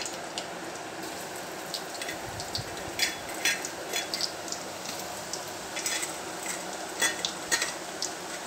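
Grated coconut dry-roasts in a kadhai, a soft steady sizzle with a spoon stirring through it and scattered light metallic scrapes and clinks against the pan.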